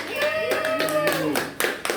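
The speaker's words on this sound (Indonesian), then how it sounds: "Tepuk Tangan, teman." Classmates clap their hands in a classroom during a microteaching session, a short burst of close, uneven claps with children's voices and tones mixed in before it trails off.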